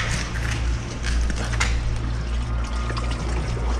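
Sea water sloshing and trickling inside a collapsed cave on military ground, a steady close wash of churning liquid that fills the space without pause.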